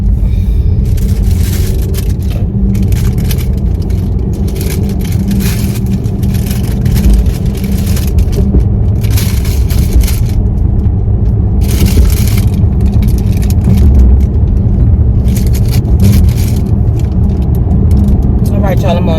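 A car drives along a highway with a loud, steady road and engine roar that holds for the whole stretch, and it swells a little at times.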